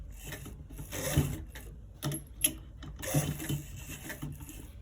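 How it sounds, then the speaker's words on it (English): A sewing machine runs in short bursts while stitching around a circular pocket design, with stop-and-start whirring and small mechanical clicks, quiet and close, no voices. "So when you are stitching it, just gotta be careful so that you're able to you're able to stitch it the way you want it to be"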